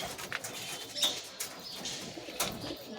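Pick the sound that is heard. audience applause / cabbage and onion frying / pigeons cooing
pigeons cooing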